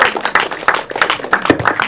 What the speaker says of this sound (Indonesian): Boleh kita tepuk tangan untuk seluruh cast filmmaker